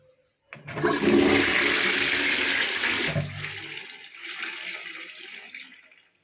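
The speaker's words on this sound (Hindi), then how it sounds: "तो ये हमने किया था हाफ फ्लश" A concealed-cistern toilet does a half flush up close, a loud rushing swirl of water that eases off after a few seconds, then a quieter refill gurgle.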